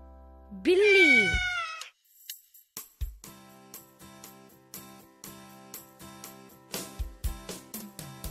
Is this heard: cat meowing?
yes